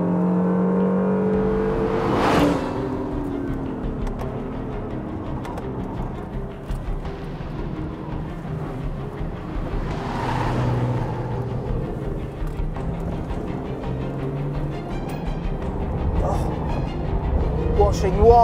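A Honda Civic Type R accelerates hard around a race track, its engine note droning and swelling from inside the car, with a few louder whooshing surges. A driver talks over it throughout.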